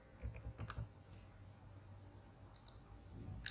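A computer keyboard is typed on quietly while working in the Microsoft Azure Portal. A quick cluster of soft clicks comes near the start, then sparse keystrokes follow over a faint background hum.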